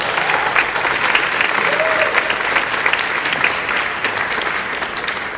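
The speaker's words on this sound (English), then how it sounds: "Please give him an applause" Steady, loud applause from an audience welcoming a guest, continuous clapping throughout with a brief voice surfacing midway.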